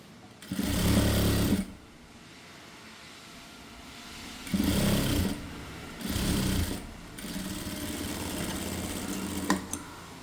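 A sewing machine stitches the hem of a uniform skirt in loud bursts, roughly a second long, separated by quieter pauses.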